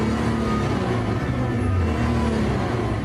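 A handmade V6 engine runs steadily on a dynamometer test bench during its very first start, producing a continuous, loud, droning engine hum with no break across the whole stretch.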